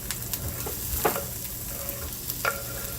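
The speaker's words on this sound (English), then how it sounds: "I'm gonna go ahead and put in the onions and the garlic." Onions and garlic frying in olive oil in a heated pan, a continuous sizzle with several scraping stir strokes at irregular intervals, close and moderately loud, with no talking.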